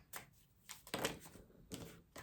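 Tarot cards being shuffled by hand, giving several short papery riffles and slaps at an uneven pace, close and fairly quiet.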